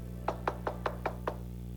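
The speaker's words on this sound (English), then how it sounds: "so they knock on the door." Six evenly spaced knocks on a cottage door, crisp and fairly close, with a steady low hum underneath and no voices.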